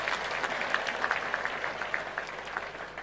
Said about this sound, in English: Can you clap for our president?